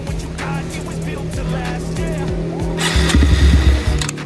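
A Kawasaki KLX 150 supermoto motorcycle idles up close with a steady, loud single-cylinder thrum. Its engine note roughens and rises briefly near the end.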